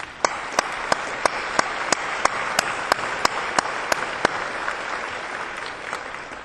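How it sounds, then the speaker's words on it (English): Audience at a presidential investiture ceremony applauds the organizing committee: steady, dense clapping filling the room, with a few sharper, louder claps standing out at regular intervals and no talk over it. "And so may we give them a round of applause."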